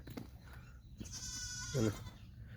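A young goat kid, recently ill, gives one short, close bleat partway through, against a quiet farmyard background.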